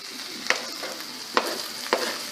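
Onion stirring in a hot pan for soup, a steady sizzle broken by three quick scraping stirs, close and clear with no talking.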